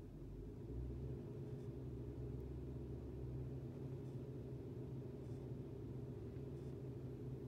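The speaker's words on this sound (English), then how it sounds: "So we'll just kind of give it a little bit of a rev." A 2005 Toyota Tundra engine, diagnosed for an oxygen sensor stuck lean, is revved lightly and held at raised idle, giving a steady, close, low rumbling drone that stays even throughout with no talking.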